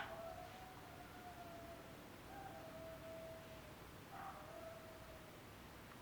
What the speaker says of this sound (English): A dog howling.